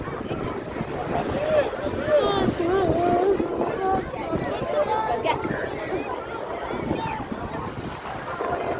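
A banana boat ride on the sea at Abu Qir beach in Alexandria, with wind buffeting and distant water and engine noise under faint shouting voices and chatter.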